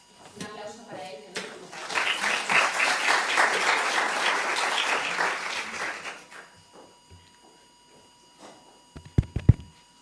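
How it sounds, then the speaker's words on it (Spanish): Audience applause for a speaker at a talk on responsible public contracting in Spain, a dense burst of clapping that swells for several seconds and fades out, with a few loud knocks or handling thumps near the end. "Un aplauso para él."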